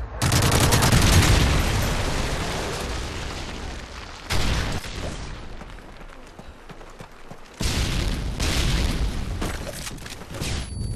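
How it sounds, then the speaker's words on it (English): A Predator missile strike in a military shooter game sets off heavy, rumbling explosions mixed with gunfire, loud at first, easing, then surging again in two later bursts. "Predator missile inbound"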